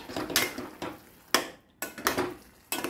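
Fish roe curry with fragrant masala is stirred in a pan, giving repeated scraping, clattering strokes of a spoon against metal in uneven bursts, close and fairly loud, with no talking.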